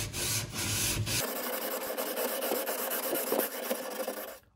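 Sandpaper rubs back and forth over a bottom center-mount drawer guide, a steady close rasping scrape that runs continuously for several seconds with slight strokes audible, then cuts off at the end.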